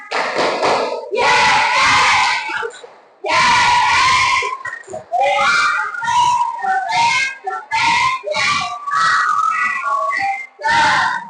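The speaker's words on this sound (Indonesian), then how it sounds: "Sekali lagi, tepukan dan suaranya yang keras. Tepuk semangat." Students in a classroom perform a rhythmic spirit clap with a loud group chant, in bursts of sharp patterned claps and shouted voices separated by short pauses.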